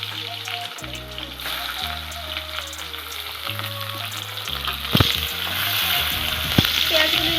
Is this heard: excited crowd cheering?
no